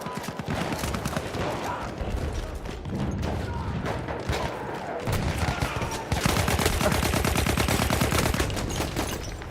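Dense, continuous automatic gunfire from a Battlefield 1 match, rapid bursts running the whole time at steady loudness and growing heavier toward the end, with no voice over it.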